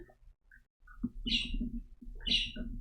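Indoor birds chirp in short bursts, with brief high tweets over a low background rumble and occasional soft thumps.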